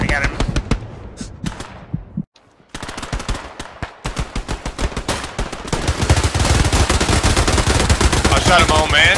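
Heavy gunfire in the World War II shooter Hell Let Loose, dense loud automatic bursts with near and distant shots layered together and building to a sustained barrage, with voices talking underneath.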